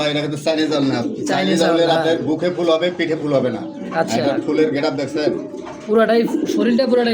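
A pair of jet-black owl pigeons cooing in a loft, with soft repeated coos running under steady talk from people nearby.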